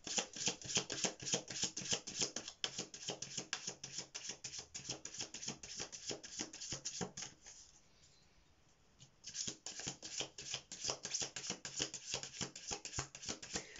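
Tarot message cards are shuffled by hand, close and soft. The rapid riffling and rubbing pauses briefly midway, then resumes.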